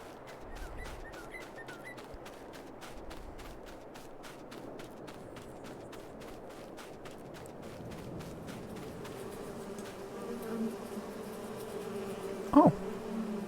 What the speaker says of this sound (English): Let's look at the bees and go get stung.